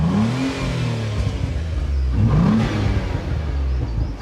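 A Renault Clio Renault Sport engine revs sharply twice, each blip rising and falling quickly over a rough, loud idle, heard close with no talking.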